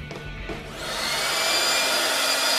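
A leaf blower spins up from a soft start into a loud, steady whooshing roar that holds to the end.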